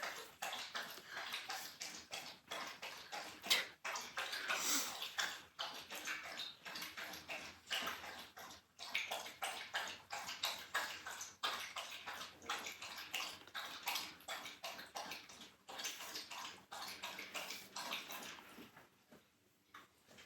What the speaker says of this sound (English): Why'd you wait until I started recording to start drinking water?